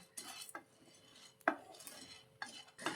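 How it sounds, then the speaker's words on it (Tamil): A spoon stirs a sago (javvarisi) mixture in a pan, giving irregular metallic scrapes and clinks against the pan, with a few sharper knocks spread across the stir. "நல்லா இந்த மாதிரி கலந்து விட்டுக்கிட்டே இருங்க"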